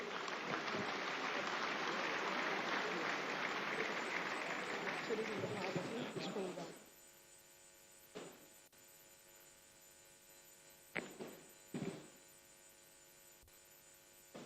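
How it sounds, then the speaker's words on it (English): At an engineering assembly, a hall audience applauds loudly for about seven seconds before it cuts off abruptly, leaving a steady electrical hum with a few brief clattering bumps. "A round of applause, please."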